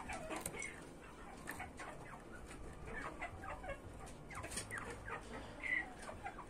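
Several chickens cluck and chatter softly at a farm in Paraná, Brazil, with scattered overlapping calls and one sharper squawk near the end, faint against an outdoor background.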